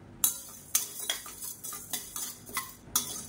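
Chana dal dry-roasting in a pan for idli podi is stirred with a metal spoon, giving repeated sharp scrapes and clinks at an uneven rhythm, close and fairly clear with no sizzle of oil.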